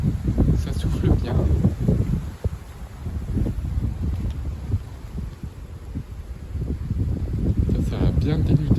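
Blustery late-November wind gusting to about 70 km/h strips leaves from oak trees. Deep, close rumbling buffets against the microphone rise and fall in uneven surges, strongest at the start and again toward the end.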